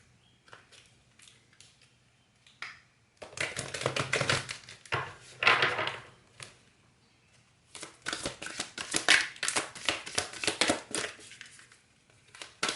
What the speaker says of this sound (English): I'm going to get some more oracle cards.